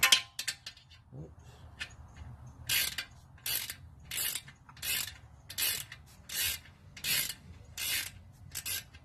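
A 15mm wrench tightens the oil drain plug bolt on a 2013-2015 Chevy Malibu, giving a steady series of about eight short ratcheting bursts, close and fairly quiet, with no talk.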